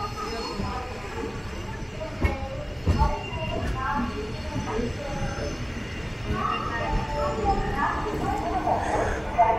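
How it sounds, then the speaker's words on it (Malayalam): A train rolls through Chennai Beach railway station with a continuous rumble, brief wheel squeals and a clatter of rail joints, while people talk nearby throughout. "ഇതാണ് ചെന്നൈ ബീച്ച് സ്റ്റേഷൻ"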